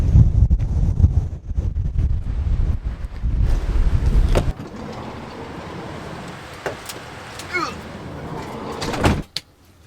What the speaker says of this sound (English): See, it's windy, isn't it?